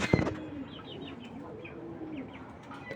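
Racing pigeons coo in a low, continuous murmur with scattered higher chirps, opening with a short burst of wing flapping, fairly quiet and without talk.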